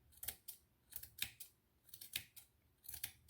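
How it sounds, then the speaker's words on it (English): Scissors snip at a faux succulent in a series of crisp, close cuts spaced a fraction of a second apart, with quiet pauses between them. "I'm just going to trim it a lot around these sides here"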